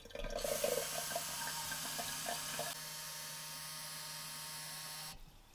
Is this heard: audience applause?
no